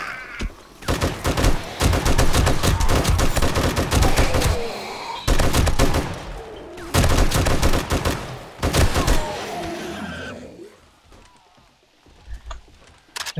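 Rapid automatic gunfire in the video game 7 Days to Die (Darkness Falls mod, Alpha 21), loud close bursts of dense shots in several long volleys, trailing off into scattered sounds and quiet at the end.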